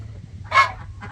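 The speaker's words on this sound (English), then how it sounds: "But that is a beautiful rooster." A rooster lets out one short, harsh, fairly loud call, then a fainter second call a moment later, with quiet low background rumble and no talking.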